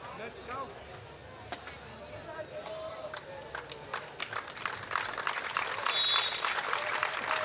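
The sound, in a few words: team cheering and celebrating after hockey match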